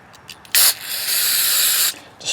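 Carburetor cleaner sprays into the bowl of a snowblower carburetor in a short burst and then one longer hissing spray, close and loud.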